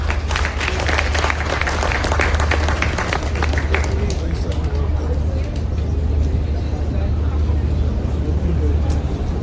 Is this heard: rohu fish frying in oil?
no